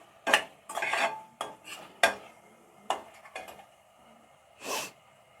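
Pasta tossed with tomato ketchup in a pan, with a few distinct scraping and clinking strokes of a utensil against the metal, separated by short pauses, close and clear.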